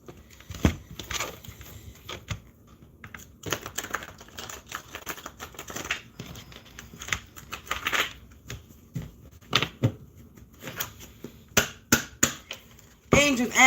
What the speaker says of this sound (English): Let me shuffle before I